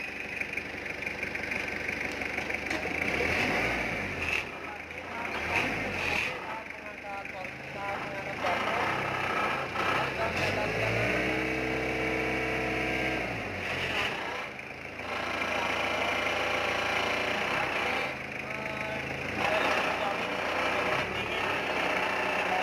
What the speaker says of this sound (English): Starter seperti halnya starter mobil ya.